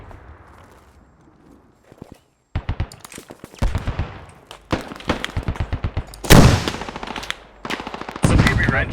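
Gunfire in the military shooter game Squad: a burst, a brief silence, then repeated rapid automatic volleys and single loud cracks, close and punchy, with faint voices underneath.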